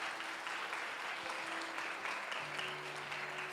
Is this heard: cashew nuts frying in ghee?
no